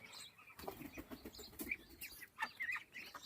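Farm ducks move about near a household pond, with scattered quacking calls, wing flaps and rustling close by at low level, with no talk.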